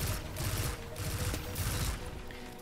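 Vigilance Wing exotic pulse rifle fires in a Destiny 2 PvP match, loud rapid bursts of shots in close succession with a mechanical edge, no talk over them.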